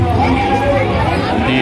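A crowd gathers at the Bajrangbali temple on Chandan Giri mountain during Mahashivratri, a steady, close, loud hubbub of many overlapping voices and chatter with no single speaker standing out.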